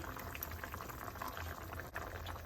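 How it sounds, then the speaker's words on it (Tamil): Coconut milk is poured into a Sri Lankan Batticaloa-style fish curry already at a boil. The faint, steady bubbling and liquid hiss run close and even throughout, with no talking. "நான் இதுக்குள்ளே வந்து கொஞ்சமாக தேவையான அளவு தேங்காய் பால் விடுறேன்"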